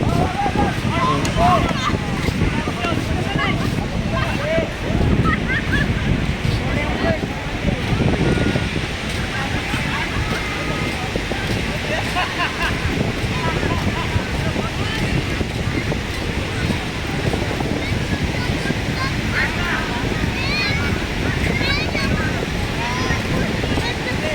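Wind buffets the microphone at White Beach, Boracay, at sunset, with surf washing in nearby. The broad, blustery rush is continuous and fairly loud for the whole stretch.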